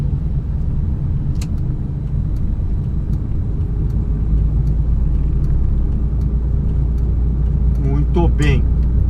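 Chevrolet Monza car driving in traffic with manual gear shifts, a steady close cabin rumble with brief clicks and a voice speaking near the end.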